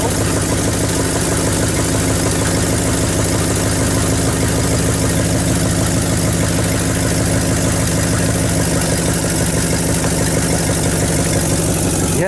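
An old 1978 Chevy truck engine, once seized, idling on its own with a loud, steady rumbling drone that holds constant for the whole stretch.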